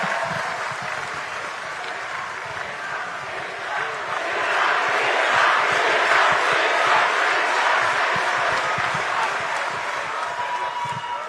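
A large crowd at an Indonesian campaign rally applauds and cheers for Gibran in a steady, roaring wash that swells midway and holds, with voices shouting within it.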